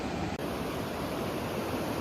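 A waterfall running through a valley between two hills in Palakkad, Kerala, heard as a continuous broad rushing roar, steady and moderately quiet, with no voices.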